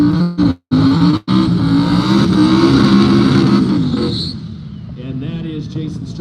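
A 1987 Fox Body Mustang with an LS 5.3 V8 roars loudly at a no-prep drag race, its heavy engine drone steady for about four seconds before fading into quieter background noise, with an announcer talking over it.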